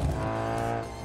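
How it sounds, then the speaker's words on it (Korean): Car engine drone from the racing video game Light Runner, a steady close tonal hum with a brief louder start, holding level for about a second with no talk. "라이트 러너는 레이싱 게임인 거죠?"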